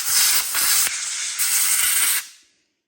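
Compressed air blowing hard onto parts of a Husqvarna chainsaw near its open carburetor during spring maintenance, a loud steady hiss in close bursts with brief dips, ending after about two seconds.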